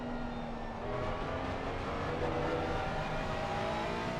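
Ferrari 666 race car in a racing video game lapping Laguna Seca, its engine droning steadily and loudly with a sustained whine and slight rises in pitch, heard alone with no talk.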